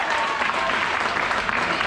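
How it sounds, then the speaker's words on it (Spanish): Crowd at an American football game applauds in a steady, dense wash of clapping and cheering that sounds somewhat distant and continuous, with no single voice standing out. "El aplauso para Alex."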